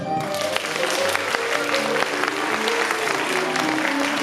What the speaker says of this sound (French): S'applaudir.